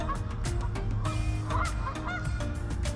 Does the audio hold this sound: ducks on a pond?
yes